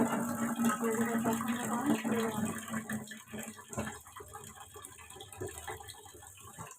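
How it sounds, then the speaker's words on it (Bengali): Water poured into a small kadai of shing fish curry, a steady gushing splash that runs for several seconds and then thins to uneven trickles. "রান্না করার জন্য যতটুকু পানি প্রয়োজন ততটুকু দিয়ে দেব।"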